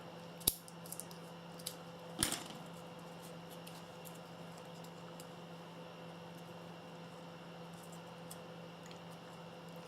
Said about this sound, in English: Just snip a little piece of that off